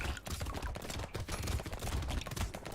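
A blue SMG in Brotato fires in a dense, steady stream of rapid shots that fill the whole moment, loud and continuous with no talking.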